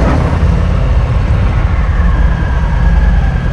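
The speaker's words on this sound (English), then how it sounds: "Hopefully you'll be able to hear some of the engine on the video." A 2020 Harley-Davidson Low Rider S motorcycle engine gives a loud, steady roar with deep rumbling low end, running continuously without pause.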